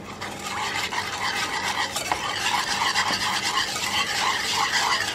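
A spoon steadily stirs a sugar and cornflour mixture for mango ice cream, producing a continuous close scraping, rasping swirl against the pot with rhythmic circular strokes.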